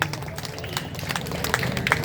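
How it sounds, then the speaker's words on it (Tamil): An audience claps at a gathering, a dense, steady patter of many hands held close and fairly loud for the whole short stretch, with no voices standing out. "கைத்தட்டினதுக்கு மீண்டும் ஒரு நன்றி."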